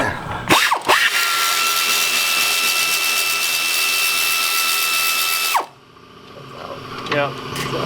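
Impact gun removing bolts during a clutch replacement on a Saab 9-3, a loud sustained whirring hammer lasting about five seconds after a short burst, then cutting off abruptly, with voices talking nearby afterward.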